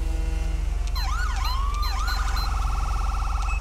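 Police truck siren in GTA V with the LSPDFR police mod, a wailing electronic siren sweeping up and down twice before settling into a fast warbling yelp, loud and close over a steady low engine hum.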